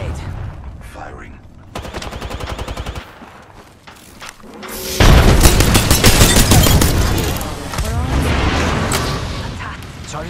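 Thermite grenade and gunfire in the Apex Legends video game, a rapid burst of automatic shots followed by a loud roaring blast and sustained fire, with a voice speaking over the battle.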